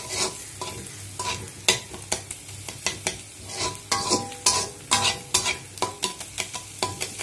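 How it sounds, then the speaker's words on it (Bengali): Eggs with fried onions and chilies in hot oil, sizzling in a pan and stirred with a utensil; a steady frying hiss broken by repeated sharp scraping strokes, up close with no voices. "পেঁয়াজ ভাজার মধ্যে ডিম দিয়ে দিলাম"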